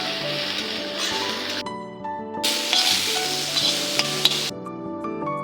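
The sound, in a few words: grated bottle gourd being stir-fried with spices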